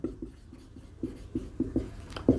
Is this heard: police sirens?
no